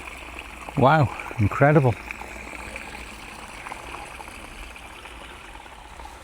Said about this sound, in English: look at the water there coming through them two pipes